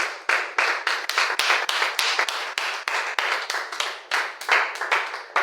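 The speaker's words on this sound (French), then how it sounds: "Acclame pour cette parole." A church congregation claps during a sermon, with dense bursts of applause rising and falling in quick waves, loud and close throughout.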